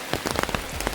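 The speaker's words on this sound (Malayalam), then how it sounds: "നല്ല കടുത്ത മഴയാണ്." Heavy rain drums hard on surfaces at a hill resort in Munnar, a dense close patter of many drops with slightly louder individual splats in a brief steady burst.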